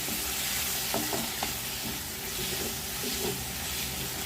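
Sweet potato and taro sautéing in a pan make a loud, continuous hissing sizzle, with occasional stirring clinks and scrapes close by and no speech.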